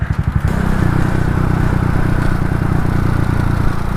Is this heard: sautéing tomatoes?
no